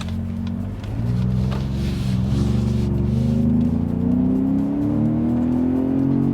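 Ford Raptor twin-turbo pickup truck in sport mode accelerating hard, a loud, steady engine drone rising in pitch as the transmission holds gears longer, close up with no talk over it.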